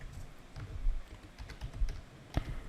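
Typing on a computer keyboard while entering an Excel formula, a loose run of soft, close key clicks with a few sharper taps, uneven in rhythm and without any talking.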